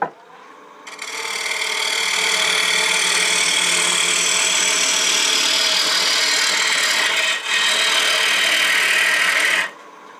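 A wood lathe turns a bowl while a 1/2 inch bowl gouge cuts the inside, making a loud, steady shearing hiss over the motor hum that starts after a second and runs almost ten seconds before stopping abruptly.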